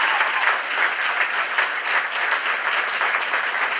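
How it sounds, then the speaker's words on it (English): Audience applauding a speaker at a children's advocacy event: dense, even clapping from a sizable crowd, moderately loud and continuous, with no voices over it. "Let's give a round of applause to Mariana Garcia Martinez."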